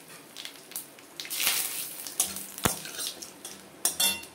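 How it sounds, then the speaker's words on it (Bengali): Nigella, cumin and radhuni seeds with a torn bay leaf tempering in hot oil, heard as a soft sizzle with scattered clinks and scrapes of a utensil against the pan, no talking. "কালো জিরে, সাদা জিরে আর রাঁধুনি আমি ফোড়ন দিয়ে দিলাম। আর একটা তেজপাতা দিয়ে দিলাম ছিঁড়ে।"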